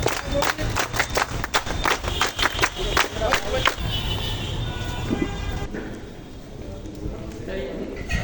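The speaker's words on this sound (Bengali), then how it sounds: "তালি বাজায় জোরে।" Audience at a madrasa award ceremony for an Islamic Arabic university claps loudly in sharp, uneven bursts for about four seconds, then the applause thins out under a murmuring crowd and room noise.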